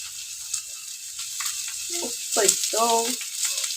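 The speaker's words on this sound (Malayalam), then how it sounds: "ഇത് നല്ലോണം ഇളക്കി കൊടുക്കാം." A mushroom stir-fry with onion and salt sizzles steadily in a pan as it is stirred. A voice speaks briefly over the frying.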